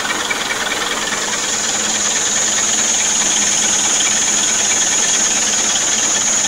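A homemade rotating flow turbine engine runs at full throttle, giving a loud, steady, unbroken roar with a sharp high whine and broad airy hiss that holds constant without pause.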